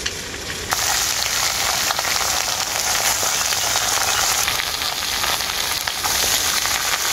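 Potato, ridge gourd, eggplant, Malabar spinach, pumpkin and beans sizzle loudly in a pan, a dense continuous frying hiss broken by stirring scrapes, close up and with no voices.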